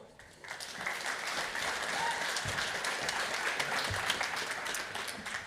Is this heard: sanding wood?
no